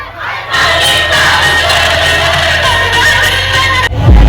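Crowd cheering and shouting at the Dadar village palanquin procession, a loud, dense roar of many voices that starts abruptly and holds steady, with a low rumbling undertone beneath.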